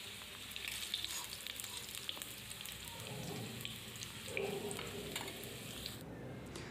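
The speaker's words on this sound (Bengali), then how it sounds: "এরপর আমি 1 মিনিটের মতো আলু ভেজে নেব। সব আলুগুলো আমি ছেড়ে দিলাম।" Potatoes frying in hot oil in a home kitchen for biryani, a soft, continuous sizzle with faint crackles, fairly quiet and close, with no talking.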